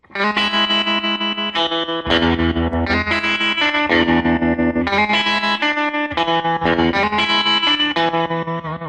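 An electric guitar plays chords through a Fender amp with a pulsing tremolo, the volume throbbing in a fast steady rhythm throughout.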